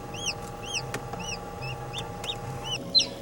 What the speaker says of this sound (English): others were beginning to pip, and you could hear chirping